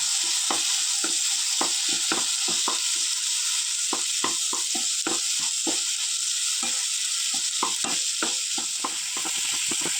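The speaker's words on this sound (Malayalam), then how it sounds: "ഒരു തക്കാളി ചേർത്ത് കൊടുക്കുന്നുണ്ട് ചെറുതായിട്ട് അരിഞ്ഞിട്ട് തക്കാളി ചേർത്ത് കൊടുത്ത് ഒന്ന് വഴറ്റിയെടുക്കാം" Finely chopped tomato sautés in coconut oil left over from frying fish, giving a steady close sizzle broken by repeated scraping clicks of a spoon stirring the pan.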